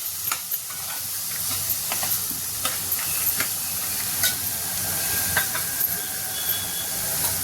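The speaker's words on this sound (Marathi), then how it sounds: "त्यामध्ये आता आपण हे सोललेले चणे टाकायचे" Peeled green chickpeas tipped into hot frying masala for a green chana sabzi, giving a steady close sizzle and hiss with light stirring scrapes and ticks throughout, no one talking.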